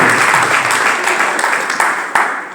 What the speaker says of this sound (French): Applaudissez le Seigneur pour le premier témoignage